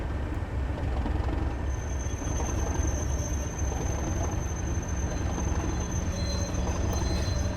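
Locomotive pulling away on the West Cornwall line in Train Sim World 2, a steady low engine rumble with rail noise and a faint high whine, continuous and fairly close.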